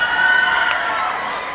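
A live audience cheers, whoops and applauds throughout, a dense steady wash of crowd noise close by.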